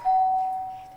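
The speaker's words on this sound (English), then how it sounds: "That's the doorbell." A doorbell rings indoors, a single clear electronic tone that sounds for about half a second and then fades away quietly.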